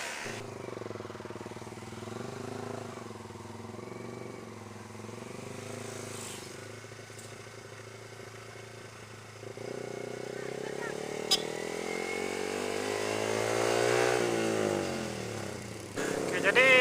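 A black Honda CBR motorcycle approaches, its engine hum rising and revving as it draws nearer under continuous outdoor background noise, with people talking throughout.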